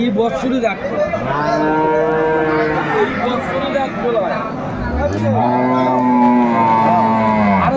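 Cattle low repeatedly at a busy livestock market where dairy cows and calves are being sold, with long, loud moos overlapping one another close by over a murmur of background voices.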